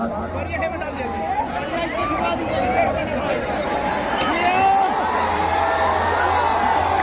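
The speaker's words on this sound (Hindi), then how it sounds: "थोड़ा सा हल्ला करके ताली बजाओ पगले।" Crowd at an outdoor rally field cheering and shouting, a loud mass of voices with whoops and chatter rising and falling, a low steady hum underneath, and clapping not clearly distinct.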